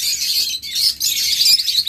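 Red-eye lovebirds chirp in a dense, continuous chatter of high, thin calls from several birds at once, steady and fairly close with no voices.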